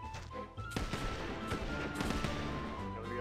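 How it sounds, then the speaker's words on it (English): Rapid bursts of gunfire crackle and thud in quick succession, dense and continuous, an exchange of shots in a land battle in the game Sid Meier's Pirates. "Gonna be a lot of exchange and gunfire."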